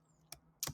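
A computer keyboard gives two quick, close keystrokes in a quiet room.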